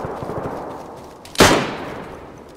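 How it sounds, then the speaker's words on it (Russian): A single loud gunshot in the DayZ video game cracks out about midway, sharp and near, then fades into a lingering reverberant tail over low background noise. "там стреляют"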